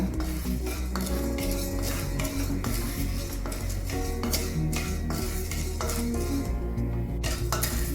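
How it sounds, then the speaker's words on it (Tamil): Chana dal roasts dry in a pan over medium heat while a metal spoon stirs it, giving repeated clinks and scrapes against the pan over a faint sizzle for several seconds, with no speech. "நல்லா சிவக்க வறுத்துக்கலாம் கடலை பருப்பை"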